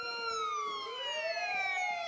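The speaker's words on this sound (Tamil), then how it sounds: "ஆம்புலன்ஸ் வருது." A wailing electronic ambulance siren in a flight simulator game sweeps up and down in pitch, steady and fairly close, with no other sounds around it.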